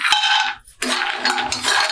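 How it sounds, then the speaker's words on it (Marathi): Almonds are tipped into a kadhai holding a spoonful of hot ghee. They make loud clattering, rattling bursts against the metal pan, with a short pause before more rattling. "आता कढईमध्ये एक चमचा तूप घातलंय तर हे घालते बदाम"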